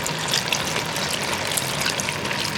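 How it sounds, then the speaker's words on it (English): Chicken broth pours from a carton into a cooking pot, a steady close splashing gurgle that runs without pause and with no voices over it. "I'm gonna take a whole carton of chicken broth. Just pour it in there."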